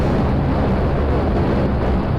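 Thrusters on a huge, many-part vessel in a physics-based building game roar at takeoff, a dense, steady rumble that stays loud and unbroken throughout.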